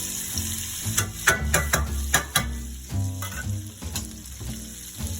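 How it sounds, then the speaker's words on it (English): Onions fry and hiss in a paella pan while a utensil stirs them, so a steady sizzle is broken by several sharp scraping clacks against the metal, close and moderately loud. "Stir those in. And we're going to let those cook down for a second or two."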